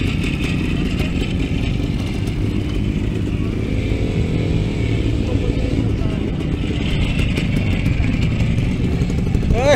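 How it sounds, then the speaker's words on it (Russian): An old, slightly smoking Belarusian Minsk motorcycle at a bike festival, its engine running with a steady close rumbling, clattering idle throughout, with crowd noise around it. "Ну, это же белорусский мотоцикл"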